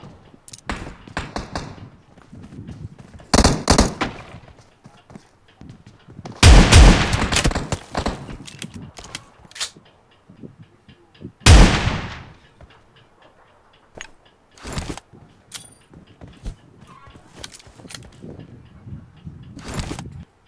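Gunfire in a shooting video game, pistol shots and bursts in short, loud, sharp cracks spaced irregularly, some clustered in rapid volleys, with quieter clicks and game noise between.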